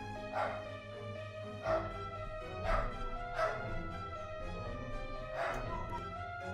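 Several dogs bark in the background of a home setting, five sharp yips spaced irregularly over a low steady hum, fairly faint and distant.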